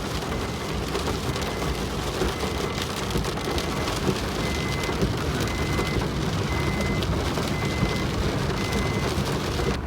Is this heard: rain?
yes